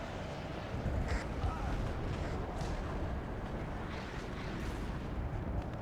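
Infantry and BMP armored vehicles trade fire in a Warno multiplayer battle, a dense, continuous rumble of distant gunfire and explosions with gusty roaring noise throughout.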